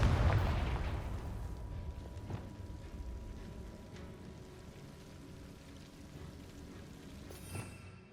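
A Confringo blasting spell going off in the game Hogwarts Legacy, a heavy blast at the start that decays into a long rumbling tail, with faint scattered cracks and debris sounds afterward.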